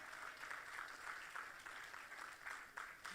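A church congregation applauding steadily, dense clapping that fills the room without a break.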